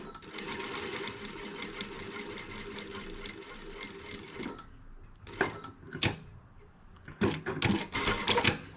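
A sewing machine stitches a sleeve slit: a long, steady run of rapid needle clatter, then a pause with a few clicks and short bursts as the fabric is repositioned, ending in another quick stitching burst.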